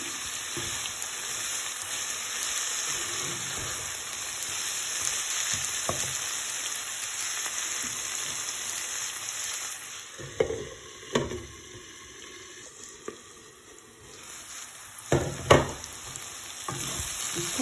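Rice and chickpeas frying with curry powder in a pan for chanar pulao, a steady sizzle with stirring scrapes and a few louder clatters toward the end; no one talks.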